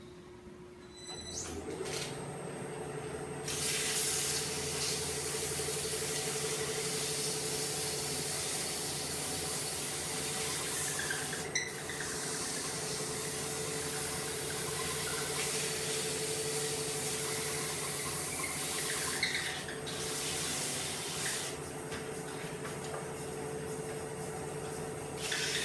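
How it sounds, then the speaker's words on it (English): Small turned wooden piece being sanded while spinning slowly on a lathe, a continuous close hissing rub over the steady hum of the motor, with brief shifts in pressure along the way. "Now I want to sand out the rest of this before I take it off."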